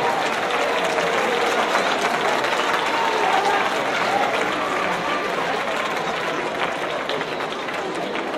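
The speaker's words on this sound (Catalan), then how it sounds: "Un fort aplaudiment, sisplau." Crowd applause welcoming the giants of Calella at a gathering of giants, steady sustained clapping from many people at moderate distance, with scattered chatter mixed in throughout.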